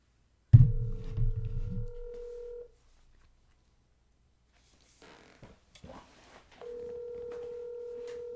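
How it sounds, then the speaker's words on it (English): Electronic phone dialing: a burst of keypad tones, then a steady ringback tone starting and stopping, with brief soft rustles in the gap between. "phone call initiated"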